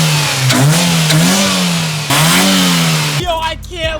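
A car engine fitted with a new aftermarket cold air intake revs loudly up close, climbing twice in quick pulls before cutting off abruptly into a sputtering drop.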